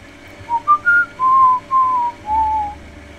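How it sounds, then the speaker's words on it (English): A person whistles a short tune of six clear notes, rising at first and then settling into longer held tones, heard alone over a faint background hum. "I don't know how the whistle goes."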